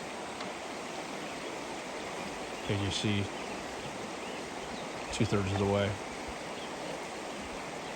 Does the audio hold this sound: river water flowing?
yes